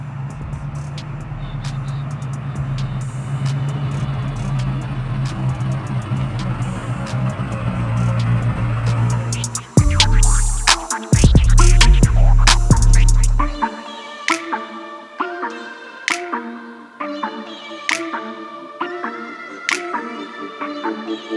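A procharged LT4 V8 in a 900+ horsepower Chevy Impala rumbles loudly at idle and revs in a few sharp bursts, then cuts off, leaving scattered clicks and tones.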